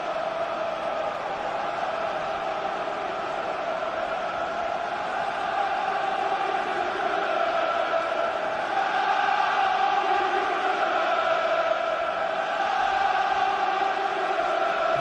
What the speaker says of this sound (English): Tremendous noise inside Wembley Stadium here to try and cheer on this Tottenham Hotspur team.